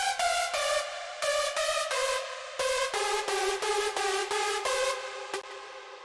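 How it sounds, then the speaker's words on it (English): A basic detuned saw synth layer made in Serum for a UK / happy hardcore track plays short bright chord stabs in a choppy rhythm, alone and moderately loud, trailing off at the end. "like a basic detuned saw kind of thing"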